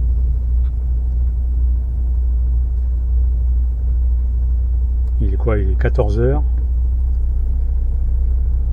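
Steady road traffic rumbling past in a village around midday, a continuous low engine drone of passing cars, with a short exchange of voices partway through.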